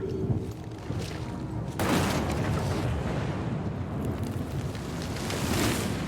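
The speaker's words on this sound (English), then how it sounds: "Now that is how you shape an explosion." A shaped explosion goes off in Evil West as a sudden loud blast that gives way to a long rumbling, crackling roar of fire and debris, close and sustained with no talk.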